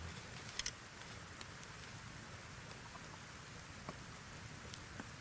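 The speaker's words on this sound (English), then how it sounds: "The rain sounds are good." Steady rain from a video game, a soft, even patter of drops falling on a surface, faint and continuous, with a few brief ticks.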